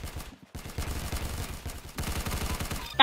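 Rapid bursts of gunfire from a first-person shooter game, repeating steadily across most of the stretch after a brief quiet gap, loud and close with no talking.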